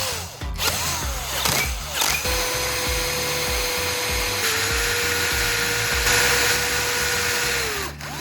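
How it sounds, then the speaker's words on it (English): A power drill whines steadily as it bores a hole through a metal bulb base, with the motor pitch dipping and rising as the bit bites, loud and close with brief speed-ups at the start. "I carefully drill a small hole through the metal base, just large enough to pass a wire or a small rod through later"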